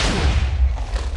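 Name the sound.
explosion in a video game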